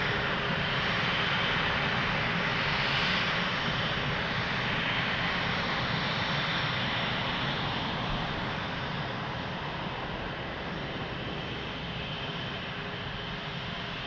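A Lufthansa airliner in its 100-year livery at Lisbon Airport produces a loud, continuous broadband engine roar that fills the whole stretch, easing slightly toward the end.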